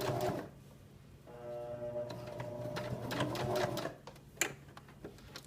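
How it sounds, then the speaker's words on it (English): A sewing machine stitches a zipper onto a bulky sweatshirt with a quiet, steady mechanical hum and rapid needle clatter, followed by a few sharp clicks and knocks as the stitching stops. "I'm going to sew along the edge at about 1/4 inch or a little less."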